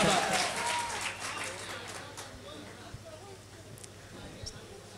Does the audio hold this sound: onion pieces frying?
no